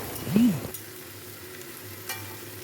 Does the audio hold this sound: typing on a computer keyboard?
no